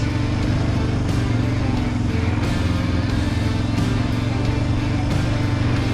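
A Yamaha Raptor 700R ATV engine held at high revs in second gear, a loud, continuous droning roar close by with little variation throughout.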